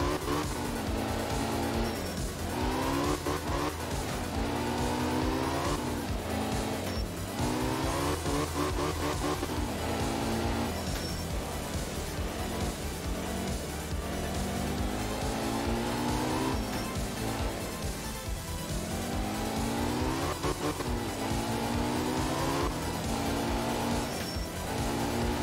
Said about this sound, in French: On sent vraiment que la bagnole a du mal quand ça monte